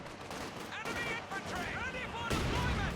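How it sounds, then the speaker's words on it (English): Mortar impacts and battlefield gunfire from the Company of Heroes 2 strategy game sound in a busy mix with overlapping booms and crackling, while a commentator talks over them throughout. "Good hit by the mortar."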